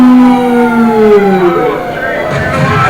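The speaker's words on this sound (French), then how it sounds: "J'entendais ces sirènes si mélodieuses." Police sirens in the video game GTA wail loudly and close, their pitch sliding downward as they pass, with a crowd-like background wash.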